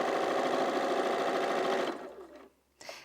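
A Bernina 475 QE sewing machine sewing a straight stitch, running with a dense steady mechanical whir that then slows and fades, ending with a brief faint burst of stitching.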